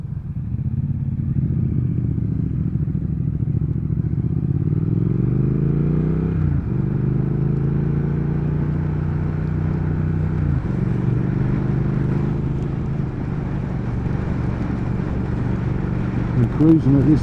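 A 2019 Triumph Speed Twin runs under a rider, its engine note close and loud, rising in pitch as it accelerates through several gear changes with a steady rumble between them.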